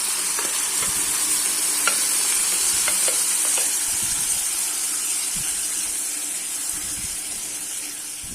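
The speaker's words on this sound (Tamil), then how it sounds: "இப்போது வெங்காயத்தை வதக்கிக்கலாம்." Onions sautéing in a pan for a tomato and moong dal kootu, giving a steady, close frying sizzle and hiss with occasional scrapes and taps of stirring throughout, no talk.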